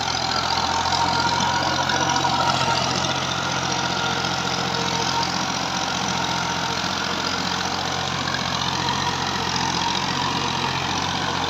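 A tractor engine runs steadily while driving a large 54 rotavator cutter through dry, crumbly farm soil, giving a loud, continuous mechanical drone with no breaks from start to finish.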